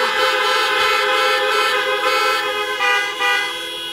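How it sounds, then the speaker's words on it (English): Several car horns honk together in a loud, sustained chorus, overlapping blasts rising and falling without a break, at an outdoor white coat graduation ceremony. "Honk those horns, come on."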